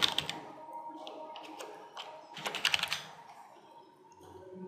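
Quick bursts of typing on a computer keyboard while entering text into an app on a simulator, irregular clusters of close, crisp key taps with short pauses in between.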